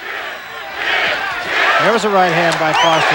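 A boxing crowd at the Jeff Mayweather vs Todd Foster fight roars and yells steadily, rising in intensity, while a ringside commentator talks over the noise.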